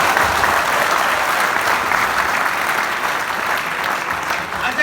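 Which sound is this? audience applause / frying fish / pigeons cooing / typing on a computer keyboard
audience applause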